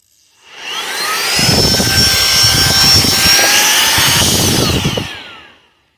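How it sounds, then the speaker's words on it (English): A Saker 3-in-1 cordless rechargeable handheld vacuum cleaner with an air extraction nozzle switches on, rises into a loud, steady high-pitched motor whine with a rushing airflow for several seconds, then winds down, close up. "My honest opinion, y'all, on the Saker 3-in-1 cordless rechargeable vacuum cleaner."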